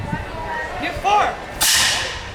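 A historical firearm fires at a Renaissance faire demonstration, one sharp, loud crack after commands are shouted, followed by a lingering noisy tail.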